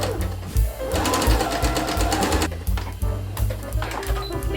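A sewing machine stitching a dress seam with round elastic, running loud and close with a rapid mechanical thump and whir, briefly slowing and restarting partway through.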